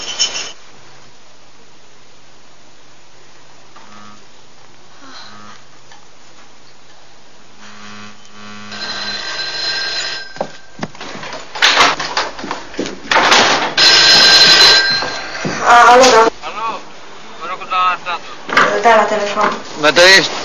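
An old telephone rings repeatedly in a room amid shuffling and handling noises, the rings coming in bright bursts that grow louder toward the end, with people talking nearby.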